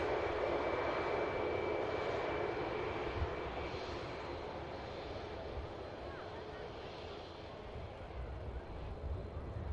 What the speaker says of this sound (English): Next aircraft to touchdown, Scandinavian.